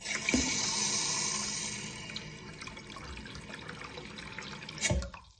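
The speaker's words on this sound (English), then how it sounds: "Now, I'm going to put a bit of hot water in." Water runs from a tap in a steady hissing stream, tapering slightly over several seconds, with a couple of clunks and a sudden stop at the end.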